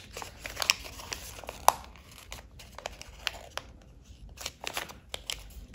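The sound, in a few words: folding paper for origami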